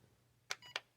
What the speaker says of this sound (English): 1 beep is beginner rate, 2 beeps is advanced high rate